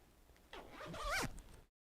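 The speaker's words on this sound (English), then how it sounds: "And it does have a zipper." The zipper on a Float Life T.A.C. flannel jacket is pulled once in a short rasping zip, close and fairly quiet, ending in silence.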